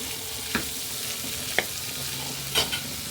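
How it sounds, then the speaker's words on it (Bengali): Dried fish and bean seeds being stir-fried together in a pan, a steady soft sizzle with a few light scraping stirs, close and quiet. "সিমের বিচি আর শুটকি একসাথে কষিয়ে দিচ্ছি"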